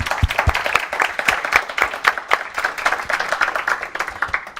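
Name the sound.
audience applause for speakers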